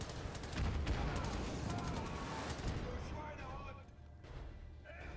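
Turret gunfire in the video game Wolfenstein: The New Order, a dense rapid burst of shots for about three seconds, then a lower rumbling battle din, with a voice talking over it.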